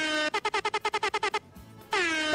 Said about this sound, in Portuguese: Solta a buzina